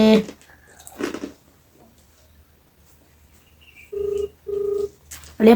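A phone rings twice in short electronic bursts, with a voice speaking briefly before and after.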